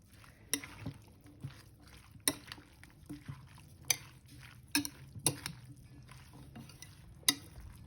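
Fish ceviche with mango and habanero being mixed in a bowl: quiet, wet stirring with a series of sharp utensil clicks against the dish, evenly spaced, and no one speaking.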